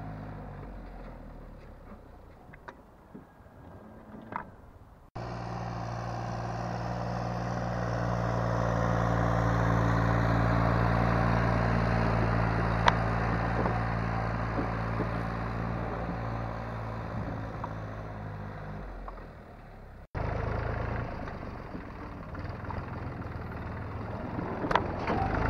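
A XINGTAI 244 tractor engine drones loudly and steadily during fast ploughing, a sustained close engine roar that holds for about fifteen seconds between quieter stretches, with no talk.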